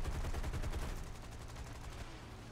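Aircraft machine gun fire in the War Thunder game, a rapid rattling stream of shots heard faintly and at a distance, slowly easing over a couple of seconds.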